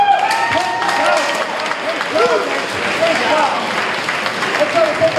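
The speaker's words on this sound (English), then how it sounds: "Let's have a big round of applause" Arena crowd at a featherweight fight event applauding and cheering the announced winner, a dense, steady wash of clapping and crowd noise across the whole stretch, with an announcer's voice over it.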